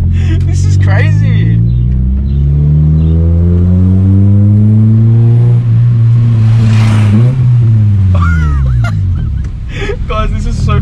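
Daily-driver car with a new $50 aftermarket exhaust revving, a loud, deep engine drone rising and falling over several seconds, with people talking and laughing excitedly over it.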